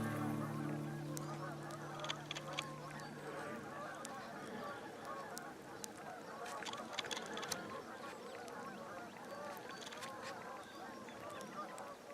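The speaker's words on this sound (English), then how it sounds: "There's about 200 geese up there." A large flock of geese honks continuously from a distance, a dense chorus of overlapping calls with a steady low hum underneath.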